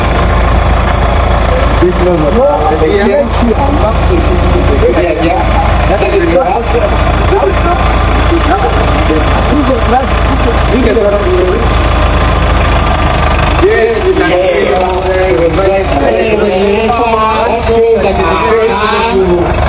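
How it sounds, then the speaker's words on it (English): A Kubota machine's engine runs steadily at a loud, throbbing idle outdoors, a constant mechanical rumble close by, while people talk over it throughout. "That machine is called Kubota"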